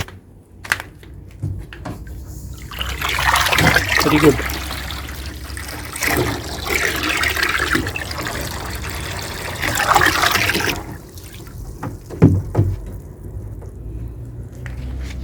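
Water pours from a pipe into a backyard fish pond tank meant for fancy guppies, making a rushing trickle that rises and falls in waves, with a few knocks and a short spoken remark.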